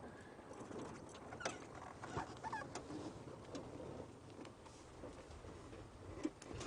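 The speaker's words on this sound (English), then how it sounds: "Hear a white-browed scrub robin calling, but quite far off." A white-browed scrub robin calls faintly and far off in thicket on an African safari drive, its notes thin and sparse against a steady background of wind and vehicle noise, with cooing doves nearby.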